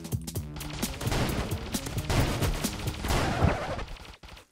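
A heavy machine gun fires in rapid bursts in the chaotic PC shooter Dope Trashcanners, close dense rattling volleys mixed with game impacts, fading out abruptly at the end.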